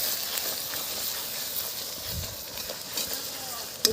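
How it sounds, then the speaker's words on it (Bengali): Onion and garlic paste hisses and sizzles steadily in a hot pan while being stirred, a continuous close frying sound with soft scraping and a brief voice near the end. "দিয়ে দিচ্ছি পেঁয়াজ। দিয়ে দিচ্ছি রসুন বাটা।"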